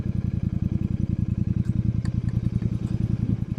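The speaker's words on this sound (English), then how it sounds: "I have become one with this motorcycle." A Royal Enfield motorcycle engine on a long highway ride, a steady rapid thumping pulse throughout, close and loud, with faint clatter and wind over it.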